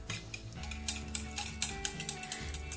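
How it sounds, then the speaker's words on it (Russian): A utensil beats egg yolks with salt and sour cream in a bowl, making quick, regular clinking taps at a close, quiet level with no voices. "В желтки добавляю соль, добавляю не очень много соли, поскольку еще в белки тоже буду добавлять щепотку соли. Добавляю 150 граммов сметаны. Хорошенько перемешиваю"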